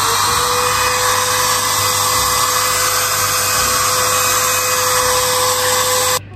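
A small travel hair dryer blows steadily on its second speed setting, a loud continuous whirring hiss with a faint motor hum, cutting off abruptly at the end.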